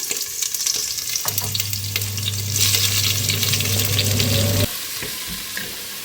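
Cut onions hitting hot oil in a pan and frying, a loud close burst of sizzling that holds steady while a spoon scrapes and stirs, over a low droning hum that later cuts out.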